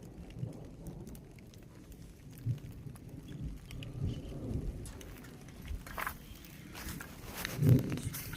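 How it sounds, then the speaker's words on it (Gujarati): Heavy rain falls on farm fields as a faint, steady hiss with low rumbles of thunder rolling in the distance. "જોરદાર વરસાદ ચાલુ થઈ ગયો."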